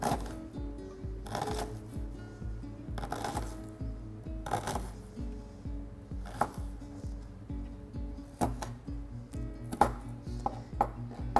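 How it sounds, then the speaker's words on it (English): A knife chops an onion finely on a board, a rapid run of crisp, close taps in steady bursts, loud and alone without any talking. "So we're going to finely chop the onion"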